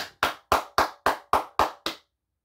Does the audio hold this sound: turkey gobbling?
no